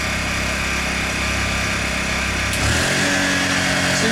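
A Honda portable generator runs unloaded with its eco throttle engaged, a steady, close engine drone that holds even throughout, shifting slightly in pitch partway as the idle settles.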